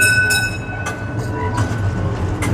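An old-style tram rumbles along a Brussels line, its loud steady rolling drone heard from inside with a few brief clanks and rattles.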